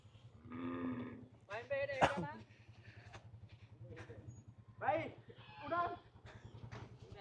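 Cattle on a farm lowing in several drawn-out calls, mixed with people talking nearby over a steady low background hum.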